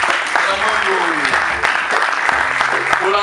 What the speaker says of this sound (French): Et applaudissez pour Madame Mankouko